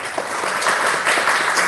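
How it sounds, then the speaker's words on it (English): An audience at a school Independence Day celebration applauds a grade 1 students' performance, with dense, loud clapping that holds steady throughout. "I request all of you to give them a big round of applause."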